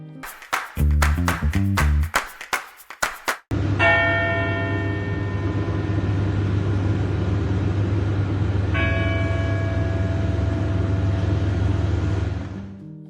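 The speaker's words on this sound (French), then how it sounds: "les cloches de Nice résonnent en mémoire des victimes de l'attentat du 29 octobre 2020" Church bells of Nice ring out loud and sustained, first as a few sharp separate strokes, then a dense, continuous peal of overlapping tones that keeps going throughout, with no talking.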